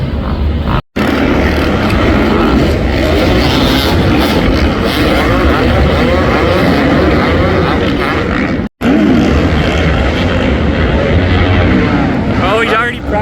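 Dirt bike engines roar loud and continuous at a Denver supercross privateer race, with crowd noise layered in and talk underneath, the din broken by two very brief dropouts.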